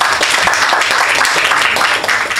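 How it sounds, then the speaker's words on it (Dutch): An audience at a poetry evening in Rotterdam gives steady, dense applause that holds at full strength throughout, with no voices standing out. "En mag je ook blijven klappen voor de eerste dichter van vanavond"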